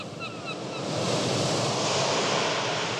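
Heavy Atlantic surf breaking on an island coast, a broad roar that swells to a loud, sustained wash, with a few faint gull cries early on and no voices.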